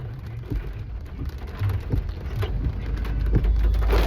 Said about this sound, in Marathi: वाशीला केवढा मोठा पाऊस पडतोय.